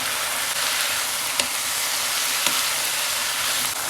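Chicken, onion, garlic and mushrooms frying in butter in a pan give a steady, loud, dense sizzle with a couple of faint clicks, no voices.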